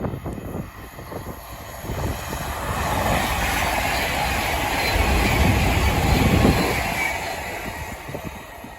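A train passes along the West Coast Main Line, a sustained rushing roar with rumbling wheels that swells to a peak mid-pass and then slowly eases, close and loud, with no talking.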